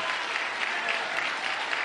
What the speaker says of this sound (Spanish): Aplauda grande al Rey que vive